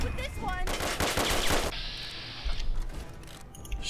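A Mark 1 turret fires in the video game Fallout 3, a loud, fast burst of automatic gunfire lasting about a second amid game sound effects and mechanical clatter.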